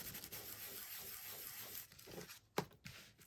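Paper rubbed by hand against the back of a 1/2-inch paper strip on a quilt card, giving a soft, faint scratchy rubbing that runs for a few seconds with a small tap near the end.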